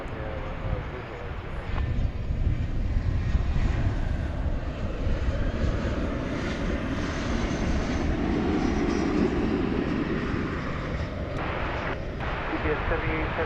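An Airbus A319 airliner at DFW Airport in the evening, a steady broad engine roar that swells and holds, heard at a distance, with speech over it.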